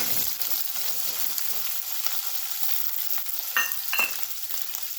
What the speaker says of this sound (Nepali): अब यो चाहिँ पनिर फ्राई गर्नलाई हामी यसमा हाल्नेछौँ।